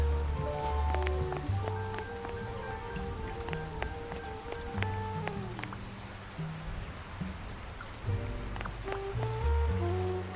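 Steady rain falls in the Duck Detective video game, a constant soft patter under layered background music with no talking.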